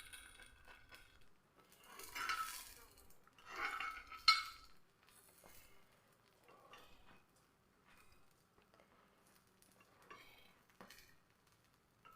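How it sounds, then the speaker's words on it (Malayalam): Lid lifted off and food turned in a pan over a low flame: a few clattering metal knocks and scrapes in short bursts, fairly close, then softer sporadic clinks with quiet gaps, no talking. "ഇനി നമുക്കിതൊന്ന് മൂടി ഒന്ന് മാറ്റിയെടുത്ത് നമുക്കിതൊന്ന് തിരിച്ചിട്ട് കൊടുക്കാം"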